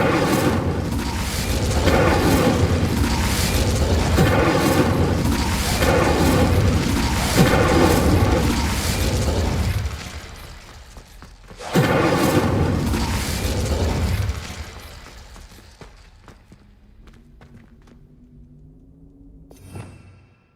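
An Incendio fire spell is cast in the video game Hogwarts Legacy, giving loud, sustained roaring booms and crackling bursts, with a second blast midway before the sound fades into a quieter tonal hum.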